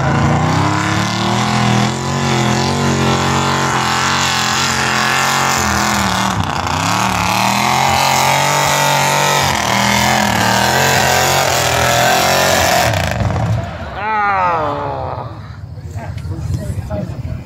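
A mud bog truck roars through a mud pit, its engine loud, close and sustained at high revs with a deep, rough growl, then drops away near the end as crowd voices and shouts take over.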